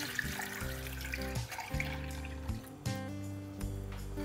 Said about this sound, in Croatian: Ulit ću pola litre vode,